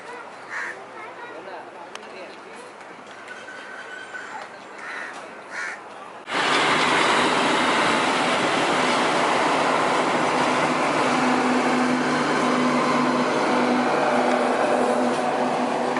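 A passenger train bound for Mumbai near Ratnagiri in Konkan passes close by, a loud continuous rushing rumble with clickety-clack that starts abruptly after quieter ambience with crows cawing.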